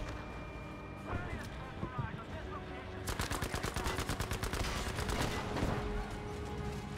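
Rapid automatic gunfire from a video game weapon rattles in a long fast burst of evenly spaced shots, preceded by scattered game sounds and a brief voice.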